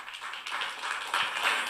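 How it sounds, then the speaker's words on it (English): A conference audience at an international forensic medicine meeting applauds after a presentation, a dense, continuous wash of many hands clapping that swells slightly toward the end, with no speech. "Let's give another round of applause for the beautiful presentation"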